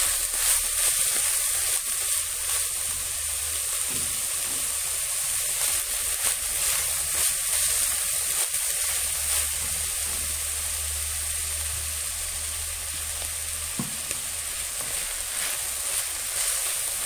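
Raw onion dropped into hot oil in a home kitchen pan, alongside peas, makes a steady, close sizzling hiss that carries on evenly throughout without speech.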